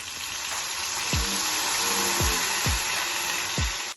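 Raisins fry in a pan until golden, giving a steady, close sizzling hiss broken by four dull knocks spaced about a second apart.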